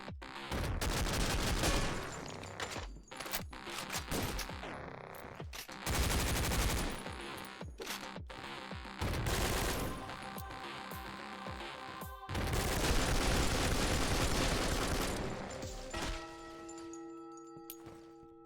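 Enemies firing guns in the top-down shooter OTXO, long dense bursts of rapid automatic fire alternating with short gaps and isolated shots, loud and close throughout.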